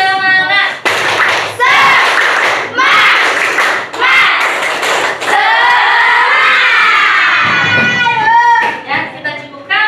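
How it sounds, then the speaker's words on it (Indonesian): Classroom of students performing a rhythmic spirit clapping chant, loud bursts of clapping mixed with shouted voices, repeated in quick rounds across several seconds, with children's voices dominating. "Oke, tepuk semangat."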